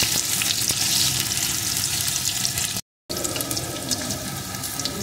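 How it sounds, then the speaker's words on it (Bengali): Potato pieces fry in hot oil with tempering spices, giving a close, loud, continuous sizzle and crackle with a short break partway through. "এখন টুকরো করে কেটে রাখা একটা আলু এর ভিতরে দিয়ে দেব। আলুটাও আমি লাল লাল করে ভেজে নেব।"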